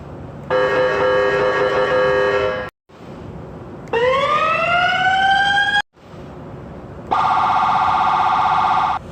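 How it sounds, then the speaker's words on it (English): Three distinct electronic siren tones from a 2021 Ford F-150 PowerBoost volunteer firefighter truck play in turn, one steady wail, one rising sweep, and one rapid pulsing yelp, separated by brief gaps. "I'm gonna go ahead and give you a little display of the Siren tones now."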